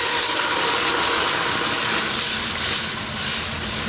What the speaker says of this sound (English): you're going to add some water to help it cook